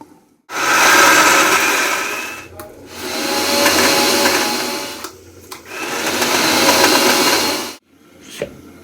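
An electric kitchen mixer grinder whirs through a paste of poppy seeds, mustard and raw green chillies in three loud, steady bursts, with short pauses and clunks between runs.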